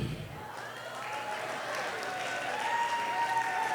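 Audience applause at a Tamil comedy stage show for a Diwali and Eid festival, a steady continuous clapping from a sizeable crowd that stays even and moderately loud throughout.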